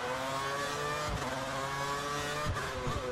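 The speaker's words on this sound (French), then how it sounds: "Et la McLaren qui rentre au stand." A McLaren race car pulls into the pit lane during a race, its engine droning steadily at close range with tonal harmonics and a couple of brief thumps.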